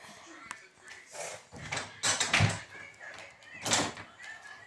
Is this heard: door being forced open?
yes